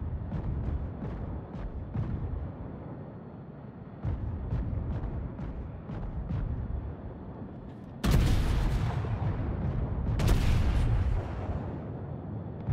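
Battleship guns in World of Warships fire armour-piercing shells as deep, rumbling booms over a constant low naval-battle roar, with a burst of sharp, loud blasts near the end and scattered softer cracks earlier.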